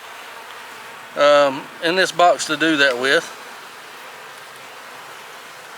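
Honeybees hum steadily in a hive box during bad weather, a low, continuous drone that runs under someone talking close by.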